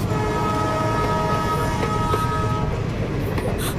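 A train at a railway station in a Telugu film scene, its steady rumble and tonal hum filling the full stretch at constant loudness, alone with no talk.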